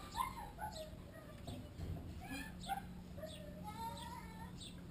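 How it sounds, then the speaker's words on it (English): Several neighbourhood dogs bark and yip repeatedly at a distance, with whimpering and a steady low hum beneath, fairly faint throughout. "the neighbour's fucking dogs barking"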